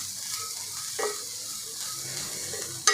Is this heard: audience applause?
no